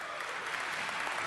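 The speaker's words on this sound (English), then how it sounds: "Give Marco a round of applause." Applause from the audience at a city council meeting, a steady burst of many hands clapping that fills the whole moment at moderate distance.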